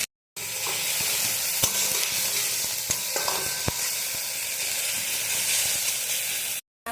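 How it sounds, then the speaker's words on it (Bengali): Tomatoes added to frying onions in a wok (kadai), a steady loud sizzle with occasional clicks and scrapes of stirring, continuous throughout and abruptly cut at both ends. "এবার আমি টমেটোগুলো দিয়ে দিলাম।"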